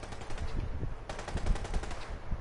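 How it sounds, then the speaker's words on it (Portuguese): Gunfire in the video game Fallout 4, rapid automatic bursts of shots rattling continuously at a moderate distance, intensifying partway through. "Quem que tá atirando aí?"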